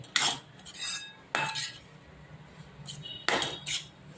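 Vasana mixture roasting in ghee in a pan, heard as a few separate metal spoon scrapes and clanks against the pan, each brief, over a quiet background.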